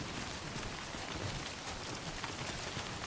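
Steady, even rain hiss from Timefall in the video game Death Stranding, a dense continuous patter with no break across a few seconds, fairly quiet and alone.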